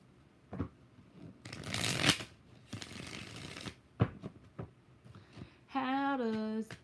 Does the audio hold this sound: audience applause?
no